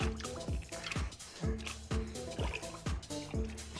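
During pottery wheel throwing, water drips in a regular rhythm, about two soft wet plinks each second, close by and fairly quiet.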